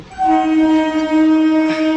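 At busy Dumdum Junction, a Bongaon–Sealdah local train sounds a loud, steady horn, one sustained harmonic blast held close by for about two seconds.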